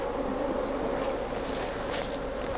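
Honeybees buzzing during a hive check on a problem swarm, a steady, dense, faint drone of many bees close by with no talking.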